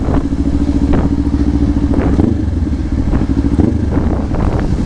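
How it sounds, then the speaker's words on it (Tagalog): A 2024 Kawasaki Ninja 500 SE motorcycle blips its throttle to rev-match on a downshift along a service road, with a steady loud engine drone broken by several short rising revs. "Rev matching."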